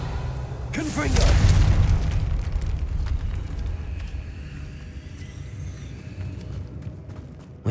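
Confringo blasting spell explosion in Hogwarts Legacy inside a tomb, a deep booming blast with a rumbling low-end swell that decays slowly into a lingering ambient drone; a voice calls out a spell just before.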